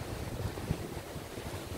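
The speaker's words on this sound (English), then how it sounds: "it's very windy here" Strong wind buffeting a microphone outdoors on a rural homestead in southern Mississippi, a steady low rumbling roar with a sharper gust near the middle and no talk.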